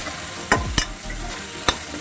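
A spoon stirs drumstick pieces (murungakkai) cooking in a pan for tamarind curry, giving a few sharp scraping knocks over a low, steady sizzle.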